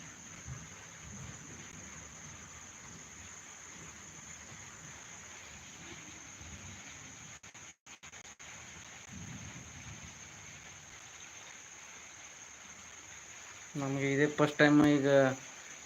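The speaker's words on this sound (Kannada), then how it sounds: "ಇಷ್ಟು ಜಾಸ್ತಿ ಮಳೆ ಆಗಿರೋದು" Heavy rain falls with thunder in Raybag, making a continuous even hiss with low rumbles underneath, and a brief voice comes in near the end.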